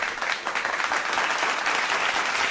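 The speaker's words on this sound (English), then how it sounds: "I give you a soul clap anyway." Steady applause-style clapping, a brisk continuous patter of many claps at moderate loudness with no talk over it.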